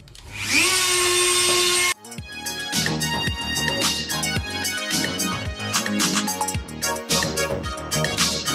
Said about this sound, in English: I'm just going to quickly trim these out with the Dremel, with the cutting disc